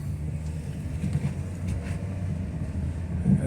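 A 1998 BMW 528 with transmission trouble pulls away and shifts into second gear, its low engine drone steady and close from inside the car.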